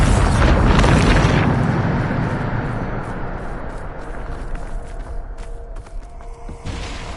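A Bombarda spell blast from Harry Potter, a loud deep boom with a long rumbling decay that fades out, no voices over it.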